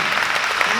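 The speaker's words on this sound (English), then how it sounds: "I want you to give yourselves a big, big round of applause" Audience applause fills a short stretch, steady and dense throughout with no break, a crowd clapping together at an even loudness.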